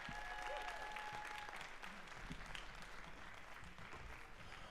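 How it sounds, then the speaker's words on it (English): A high school jazz concert audience applauds the soloists, a dense wash of clapping that swells early and then thins slightly while staying continuous, with no speech over it. "Let's give all our soloists another round of applause."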